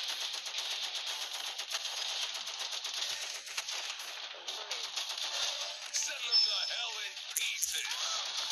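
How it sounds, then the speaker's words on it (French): Rapid gunfire from a video game, dense crackling bursts of shots running continuously, with a brief sharper burst near the end and no clear talk. "je tire avant elle"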